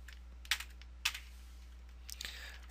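A few soft computer keyboard keystrokes tap sparsely while typing footer text in Dreamweaver CS6, faint and close over a quiet low hum, with a short flurry of keys near the end.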